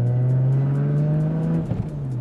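A 1990s HKS Zero R sports car engine revving loudly up close, a steady high-pitched drone that holds, then dips and stutters briefly near the end.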